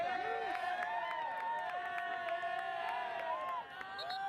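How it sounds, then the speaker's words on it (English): A Blue Devils home crowd cheers at a night women's soccer match, a distant, sustained roar with whoops and shouts, while a commentator's voice carries over the top. "The support of this Blue Devil crowd being heard on this night"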